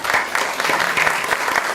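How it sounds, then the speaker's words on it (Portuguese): Brief, dense audience applause at an international forum on Latin America, a continuous burst of many hands clapping to welcome a speaker, fairly close and with no talk over it. "les pido un aplauso para recibir al doctor Prochnik"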